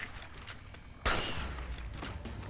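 A single loud hunting-rifle shot cracks out in Fallout: Tale of Two Wastelands, leaving a long, noisy rumbling tail after quieter game ambience.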